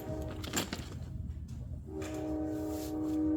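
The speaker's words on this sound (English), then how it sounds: "Sorry about the train." A train passes in the background of a workshop, its horn sounding as a steady sustained tone that swells in the final seconds, with low rumbling rail noise underneath.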